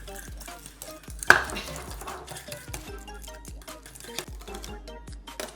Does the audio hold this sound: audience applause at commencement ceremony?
no